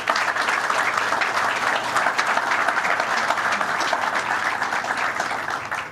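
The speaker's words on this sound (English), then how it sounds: "Let's give him a round of applause." A crowd at a Long Island welcome center construction announcement with Governor Cuomo breaks into sustained, even applause, dense close clapping holding steady for several seconds before trailing off.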